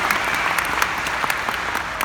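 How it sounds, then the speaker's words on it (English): Theatre audience at a live book-tour talk in New York's Beacon Theatre breaks into steady, dense applause, a close wash of many hands clapping with no speech over it. "You guys are very good on the applause."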